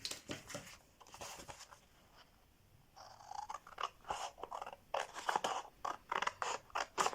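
Scissors snipping through paper for a scrapbooking project, a series of quiet close crisp cuts after a pause, growing more rhythmic toward the end.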